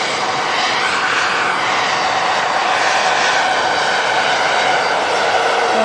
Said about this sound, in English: Just as another huge aircraft arrives into Manchester Airport, the Qatar